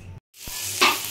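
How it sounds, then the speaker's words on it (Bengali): Salt-and-turmeric-coated prawns hit hot oil in a kadai, a short burst of sizzling that swells suddenly after a brief silence, close and alone. "এটা এবার কড়াই তেলের উপর ভেজে নেব।"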